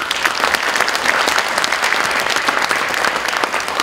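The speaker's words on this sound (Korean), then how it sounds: "영광의 박수를 올려드립니다" A church congregation claps together in steady, dense applause, loud and sustained throughout with no break.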